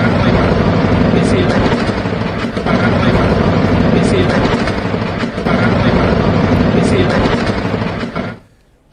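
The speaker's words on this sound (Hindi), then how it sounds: "अमेरिका ने इसके लिए अपाचे सहित कई खतरनाक हेलीकॉप्टर्स का उपयोग किया" Loud, continuous roar of Apache and other attack helicopters during a US military attack, a dense steady rumble with rhythmic rotor beating and brief dips, close and overpowering before fading at the end.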